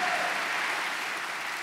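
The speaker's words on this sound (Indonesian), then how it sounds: "You can clap and give God praise" A church congregation claps together in praise during a revival service, a dense, steady wash of applause that fills the room and stays level throughout without any voices.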